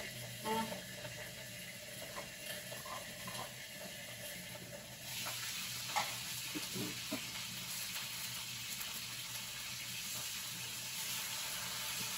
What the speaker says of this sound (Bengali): আমি ভাজতেছি টমেটো